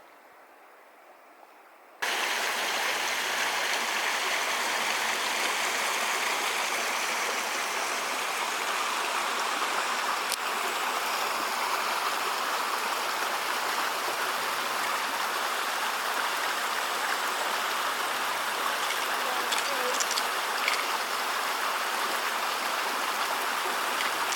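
River flowing through a forest clearing in the Alpine Lakes Wilderness of Washington, a steady, loud rushing of water that starts abruptly after a brief quiet moment and continues unbroken and close.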